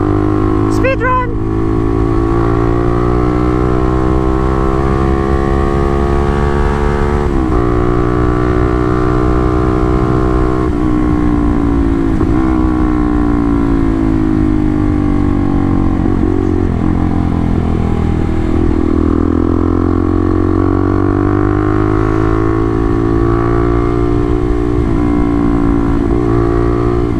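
Motorstar Z200X sport motorcycle ride with a steady engine drone whose pitch rises and falls through gear changes, loud and continuous, with someone talking over it.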